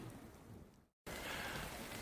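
Heavy rain pours down steadily during a thunderstorm at a fishing spot, loud and close throughout, with a brief silent gap in the middle before the downpour resumes.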